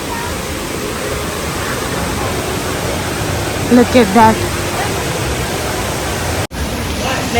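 Indoor waterfall at Jewel, Singapore, a broad, steady roar of falling water filling the space, with a voice briefly speaking over it midway.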